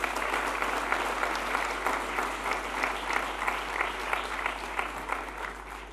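Conference audience applauding steadily, a dense sustained wash of many hands clapping at moderate volume, with no speech over it.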